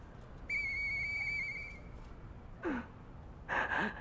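Murphy, a character in the video game Lies of P, gives a steady, clear whistle held for about a second and a half, followed by a few short breathy gasps and sighs.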